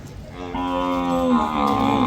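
A buffalo gives a long, deep, resonant moo close by, loud and drawn out, at the Erragadda buffalo market.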